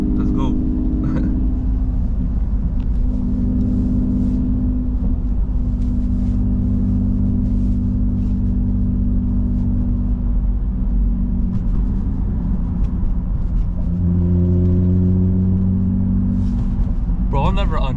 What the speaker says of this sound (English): You can hear the turbo, you gotta watch this.